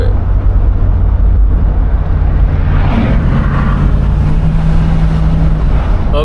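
A 1971 Chevrolet Impala's engine drones steadily as the car accelerates on the road, a low continuous rumble holding at a loud, close level throughout with a faint rising tone near the end.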